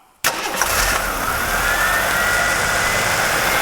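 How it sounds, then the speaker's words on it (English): A Jeep engine fitted with fuel injection cranks and catches at once, then holds a loud, steady fast idle close by with a faint rising whine. "I'm going to have Charlie start it up now."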